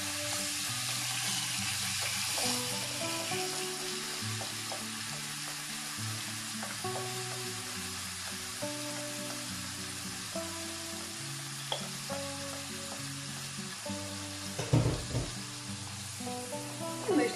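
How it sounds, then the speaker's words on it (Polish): Mushrooms with onion and pepper sizzle steadily in a hot pan with sunflower oil, a continuous moderate frying hiss with occasional stirring clinks near the end. "na rozgrzaną patelnię wrzucamy nasze pieczarki z cebulką i z papryką"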